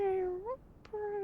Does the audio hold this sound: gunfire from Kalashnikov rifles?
no